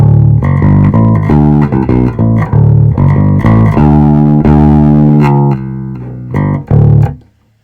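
Bass guitar through the speakers of a Trace Elliot Elf amp with the gain turned up, giving a loud, punchy stream of plucked notes and sustained tones that continue for several seconds before a final couple of hits.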